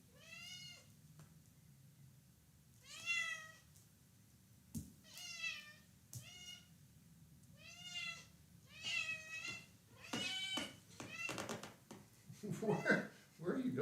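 Rosie the cat meows repeatedly indoors, a series of clear rising-falling mews spaced a second or two apart, close and fairly loud, with a person speaking softly in between.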